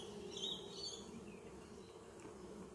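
Honey bees hum in a dense, steady drone inside a nucleus hive, checked at the end of autumn after a tea tree flow, the buzz close and continuous with a few brief louder swells near the start.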